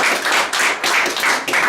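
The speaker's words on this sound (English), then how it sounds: "I want you to put a thundering applause together for Mr." A short burst of loud, close clapping from a small group at a seminar, coming in dense bursts broken by brief dips.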